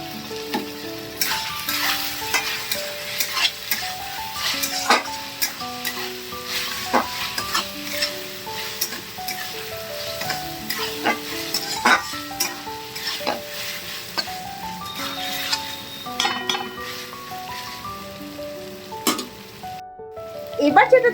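Chicken sizzles and is stirred in a frying pan, with steady frying crackle and repeated scraping strokes of a spoon against the pan throughout.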